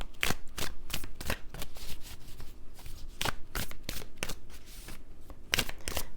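Tarot cards are shuffled up close in repeated quick riffling bursts with short pauses between them. No voices are heard.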